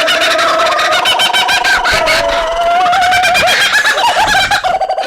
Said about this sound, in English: Any movie or TV show that has jungle ambiance noise in the background, it's usually the kookaburra sound